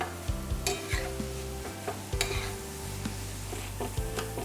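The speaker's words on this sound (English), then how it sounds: "I'm going to cook the tomatoes till they are nice and soft" Tomatoes cook slowly in a pan for a gravy, a soft sizzle broken by repeated scraping stirs of a utensil against the pan, close and steady.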